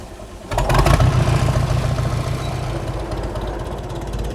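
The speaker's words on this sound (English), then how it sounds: "Yes, the mill is powered by a tractor." A tractor engine powering a grain mill kicks in abruptly after a brief quiet moment, then runs loud and close with a steady, throbbing idle.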